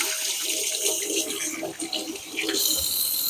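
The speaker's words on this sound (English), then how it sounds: "So I'm going to wash my hands." Running tap water splashing over hands being washed at a kitchen sink during poultry prep, a close, steady hiss of flowing water with small shifts in the splash.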